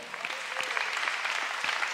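A church congregation applauding at a conference, steady dense clapping throughout, moderately distant and fairly soft, with no clear talk over it.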